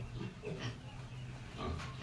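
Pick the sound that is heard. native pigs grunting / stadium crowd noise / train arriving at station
native pigs grunting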